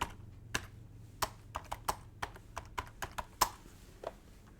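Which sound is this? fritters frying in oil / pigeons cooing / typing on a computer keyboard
typing on a computer keyboard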